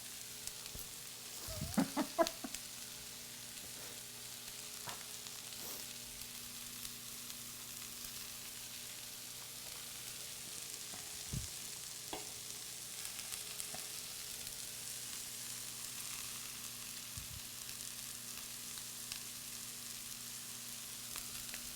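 Meatless soy sausage sizzles and fries in a pan, with a steady crackling hiss throughout and a few louder clatters near the start.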